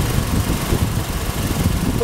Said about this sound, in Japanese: エンジンの音の方を聞いてみたいと思います。